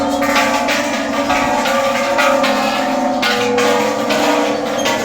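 Temple bells ring continuously in sustained, overlapping tones at Wat Saket's Golden Mount in Bangkok, loud and steady throughout with a busy outdoor ambience beneath.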